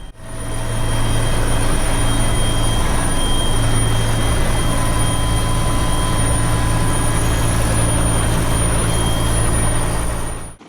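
A loud, constant engine roar with a deep rumble and steady whine drones on for several seconds from a rescue helicopter running nearby at the cliffs of Uluwatu, Bali.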